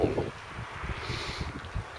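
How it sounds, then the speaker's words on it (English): Soft gusts of seaside wind at Gorleston buffet the microphone, producing low rumbling puffs at a fairly quiet level. "It's a bit windy."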